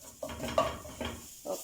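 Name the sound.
stirring rice dish with black pepper in a pot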